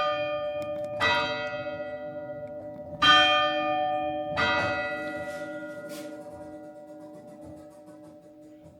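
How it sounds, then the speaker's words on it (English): A church clock in a thirteenth-century church chimes the hour, three loud bell strikes about a second and a half apart, each ringing on with long overlapping harmonic decay in a reverberant space, no talking. "that is the clock, not the bell. The clock rings every hour apparently"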